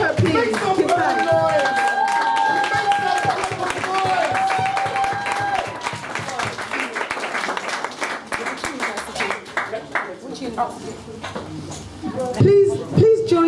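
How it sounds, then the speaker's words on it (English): Applause from a church or community fundraising audience, steady clapping across the room mixed with cheers, voices and music, rising in a louder burst toward the end. "Can we applaud her, please?"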